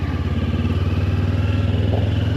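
A Kawasaki motorcycle engine running steadily and close by while cruising, with a pulsing low rumble and no talk.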